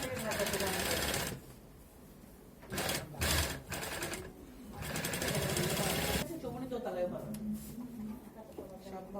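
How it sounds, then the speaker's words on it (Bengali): A sewing machine stitching along the zip side of fabric edges, in loud buzzing runs broken by short pauses and brief stops and starts, with someone speaking over it. "এখন চেঙের পাশটাই সেলাই করা হচ্ছে।"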